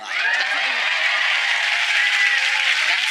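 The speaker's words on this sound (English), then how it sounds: "Don't clap too loud." Studio audience on a talk show applauding, a dense, continuous wash of clapping held at a loud, even level for a few seconds with no break.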